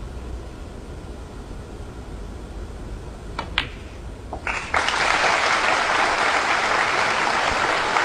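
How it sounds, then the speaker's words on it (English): At a snooker final, the crowd breaks into applause after a quiet stretch of room hiss and a couple of faint clicks. The clapping swells into a broad, sustained roar of many hands and holds to the end. "The applause is because that was frame ball."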